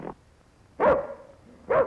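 A dog barks twice, sharp and close, with short single barks spaced almost a second apart against a quiet background.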